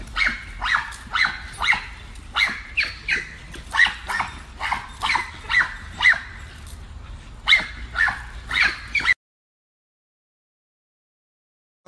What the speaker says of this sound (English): That's his mama right there barking.